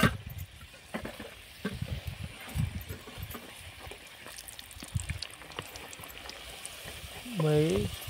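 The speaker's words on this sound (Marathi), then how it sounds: "मस्त तळून निघल्यात" Karanji pastries deep-fry in hot oil, a soft continuous sizzle and bubbling with scattered light clinks, fairly quiet, and a brief voice near the end.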